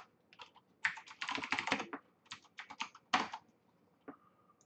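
Bursts of computer keyboard typing, close and fairly quiet, in several quick clusters of keystrokes with short pauses between them, ending with a single brief tone.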